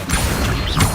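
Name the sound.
Accio summoning charm cast in Hogwarts Legacy video game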